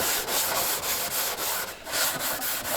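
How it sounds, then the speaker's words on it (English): Rhythmic back-and-forth scrubbing across a wooden surface in a mobile home being cleaned before painting, a steady rasping rub repeated in short strokes, close and fairly loud with no talking. "I'm just gonna scrub this down."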